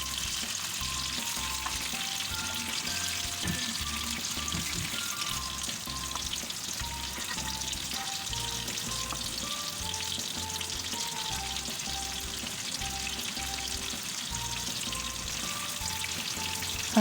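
Gola kababs fry in a pan of hot oil with a steady, continuous sizzle and crackle, with occasional light scrapes of a utensil, holding an even level throughout.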